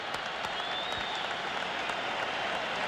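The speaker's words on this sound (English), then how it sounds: "Tremendous ovation, and he deserves it." Standing ovation from a huge boxing crowd in Madison Square Garden, a thick roar of clapping and cheering that holds at an even level throughout, with a faint whistle riding over it.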